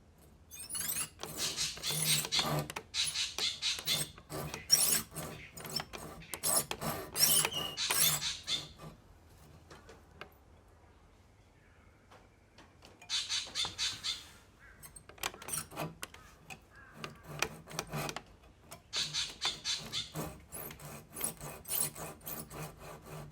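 Coping or tenon saw cutting timber at an angle, bursts of rapid rasping back-and-forth strokes separated by short pauses, close and crisp.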